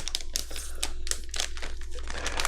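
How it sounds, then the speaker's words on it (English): A plastic bag holding a Nerf Strongarm/Disruptor kit crinkles and rips open up close, with quick rustling bursts and no talking. "I'm going to tear the bag open and dump it into the kit box"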